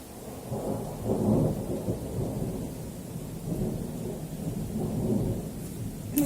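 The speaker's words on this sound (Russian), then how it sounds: "Идет гроза, при этом у нас гремит только гром, а молнии нет." Thunder from a thunderstorm rolls in low, rumbling waves over a steady hiss of falling rain, swelling twice and fading back without any sharp crack nearby.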